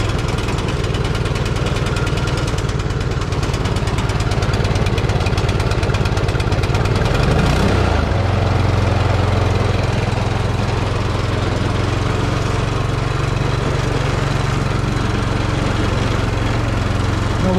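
A Predator 212cc engine swapped onto a single-stage snow blower runs loud and close, holding a rough, throbbing idle that shifts to a steadier, lower drone about halfway through, with no talking.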